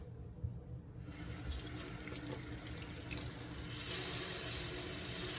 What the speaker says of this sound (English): now I am going to rinse the entire plant off with warm water